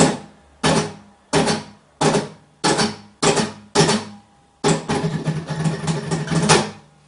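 Flamenco guitar played in short bursts of rapid triplet picking, seven clipped phrases separated by brief pauses, then a longer continuous run of fast repeated notes.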